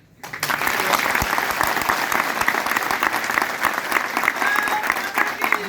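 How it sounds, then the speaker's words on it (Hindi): Loud, sustained audience applause fills the hall at a government job fair at the BSF academy in Gwalior, a dense wash of many hands clapping close by that starts abruptly and holds steady to the end, with no voices over it. "तालियां थोड़ी कम बजी"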